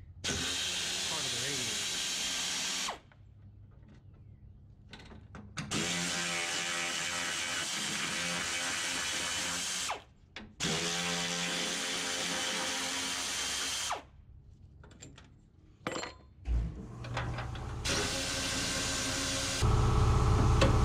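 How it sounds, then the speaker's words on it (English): A ratchet or power tool removes 10 mm bolts from the radiator of a 1996 Nissan Hardbody D21 with a four-cylinder engine, running in several long bursts separated by short pauses. "I'm gonna take these 10 millimeter bolts out"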